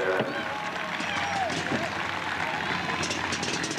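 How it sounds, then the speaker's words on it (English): Crowd at a motorcycle stunt show at the Wood County Fair in Ohio breaks into dense, sustained applause and cheering, a broad wash of clapping with a voice heard over it. "Ladies and gentlemen, how about a big round of applause for L-Speed?"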